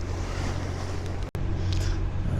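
Strong wind roars over a sailing boat in Arctic waters off Svalbard during squalls, a steady loud broadband rush with a brief dropout midway, water noise beneath it.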